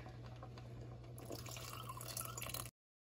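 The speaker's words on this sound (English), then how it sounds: "And I'm gonna add about another half a cup, just a half a cup of water." Half a cup of water poured into a cooking pot holding frozen corn, a steady close splashing trickle that runs for under three seconds and then stops, over a low constant kitchen hum.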